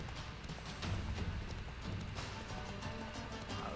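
A horse gallops during a mounted fight in The Witcher 3, its hooves drumming a steady, fairly quiet clip-clop rhythm with occasional clashing noises over a busy game background.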